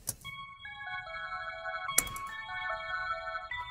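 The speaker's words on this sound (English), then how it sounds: "it definitely puts some dirt on it. Makes it sound like something that was recorded in the 70s from a string machine" A faint, lo-fi synth melody with a gritty, string-machine character from the UJAM Finisher Retro effect, stepping through short sustained notes with a brief click partway through.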